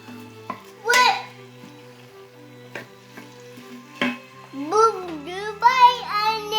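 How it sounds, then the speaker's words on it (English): Onions sautéing in an Instant Pot give a soft sizzle with a few sharp stirring clacks, while a toddler's voice chatters and babbles over the top. "Goodbye onions, they're cooking."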